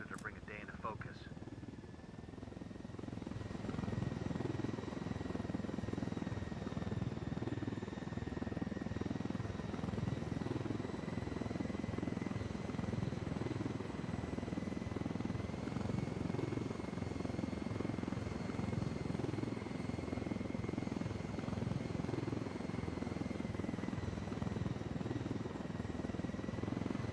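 A Ghost Recon helicopter drones steadily throughout, a dense rotor rumble with a whining engine tone holding at constant loudness for the whole stretch.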